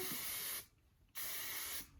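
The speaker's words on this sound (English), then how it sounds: "lightly spray it, spray down my flyaways" Aveda Air Control light hold hairspray released in two close, steady hissing bursts of about half a second each, separated by a short pause, with no talk.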